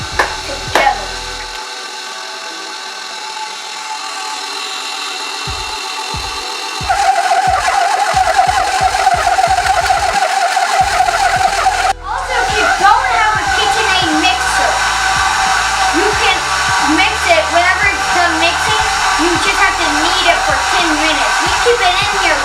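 An electric stand mixer kneads bagel dough, its motor whirring loudly and steadily from start to finish, with rhythmic thumping as the dough turns and a rise in pitch partway through as the speed increases.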